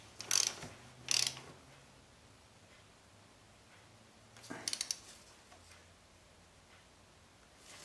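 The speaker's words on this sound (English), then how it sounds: "And torque this down to 20 Newton meters." Torque wrench tightening a front brake bolt to 20 newton meters during a brake service, a few quick ratcheting clicks in short bursts separated by quiet pauses, close and crisp, no talk.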